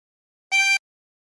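Single short harmonica blow note on hole 6, a clear steady reed tone lasting about a quarter second, close and isolated in silence.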